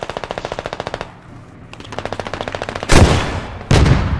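Automatic gunfire in the video game Squad, on the Gorodok map: steady rapid machine-gun bursts with a short pause, then two louder, harsher close-range volleys near the end, with no talking.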